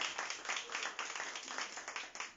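A church congregation claps together in a brisk, fairly even rhythm, many hands sounding close and continuous through the short stretch.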